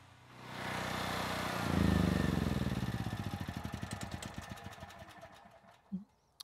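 Portable generator engine running steadily as it powers a house, a loud droning hum that swells, then shuts down into a slowing, clattering chug of separate beats and a final thump.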